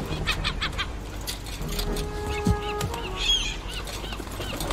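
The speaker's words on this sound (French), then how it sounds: "Regarde ces crétins d'oiseaux" Birds squawk and honk in Concrete Genie, a few harsh clucking and goose-like calls over a steady backdrop of game sounds and music.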